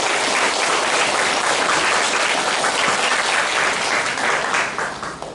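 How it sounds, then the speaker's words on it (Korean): A church congregation at a Sunday worship service claps in encouragement: dense, steady applause that fills the room throughout and tapers off slightly at the very end. "우리 함께 격려의 박수를 보내시면 감사하겠습니다"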